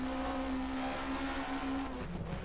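Turbocharged 1979 DRM Division 2 race cars at the Diepholz airfield circuit, a loud steady engine drone holding one pitch, then shifting and fading slightly near the end.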